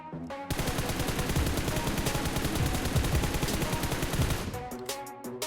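Rapid automatic gunfire in the mobile shooter PUBG Mobile, a dense continuous burst of shots lasting several seconds, loud and close, with short gaps at the start and end.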